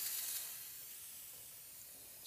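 An aerosol can sprays a continuous hiss onto freshly cleaned engine cylinders to keep them from rusting, strongest in the first moment and then holding steady and fairly faint.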